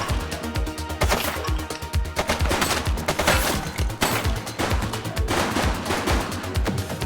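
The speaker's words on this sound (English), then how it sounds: "Shots fired!" Rapid gunfire rattles through a shootout in the police video game The Precinct, dense bursts of close, loud shots repeating in quick rhythm for several seconds with no talk.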